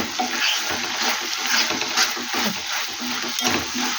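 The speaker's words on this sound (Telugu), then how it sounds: "చిటికెడు పసుపు, ఒక్కసారి బాగా కలపాలి." Food stirred in a pan after a pinch of turmeric goes in, soft sizzling under repeated scraping strokes of a spoon, close and continuous, no talk.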